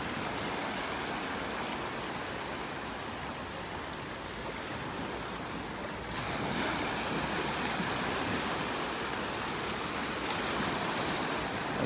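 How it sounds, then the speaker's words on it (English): Surf washing ashore on a warm Gulf beach in North Naples, Florida, a steady broadband wash that swells noticeably louder halfway through, with no voices. "You can see right where the waves start to form, right there."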